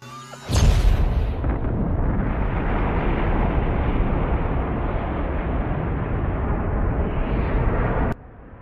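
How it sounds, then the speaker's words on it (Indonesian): A sudden loud explosion from the film The Core bursts out, then a sustained roaring rumble that holds steady for several seconds before cutting off abruptly. "Waktu peledakan pun dimulai yang menyebabkan si Jimski tewas karena ledakan."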